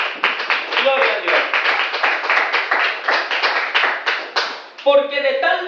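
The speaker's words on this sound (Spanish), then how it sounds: "Denle un aplauso al Señor." A church congregation claps steadily in a quick, even rhythm, loud and close, with a few voices calling out near the end.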